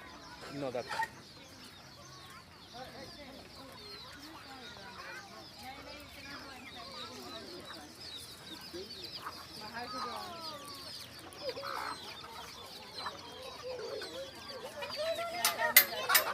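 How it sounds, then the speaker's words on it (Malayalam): Chickens and small chicks on a farm in Dubai's Sustainable City, clucking and peeping faintly and continuously in the distance, with scattered rustling and ambient noise. "നിറച്ച് കോഴികളാണ്."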